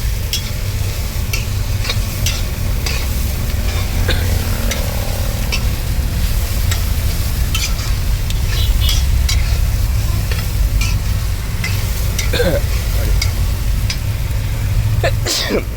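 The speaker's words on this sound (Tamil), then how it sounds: "நல்லா கிண்டி விட்டுட்டு நல்லா வதங்கணும் பீட்ரூட்." Beetroot being stirred and sautéed in a pan for Tamil-style poriyal: steady scraping of the spoon and a soft sizzle carry on continuously at close range, with scattered clicks and no talking.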